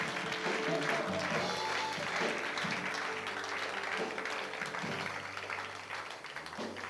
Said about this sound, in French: on peut applaudir bien fort le Seigneur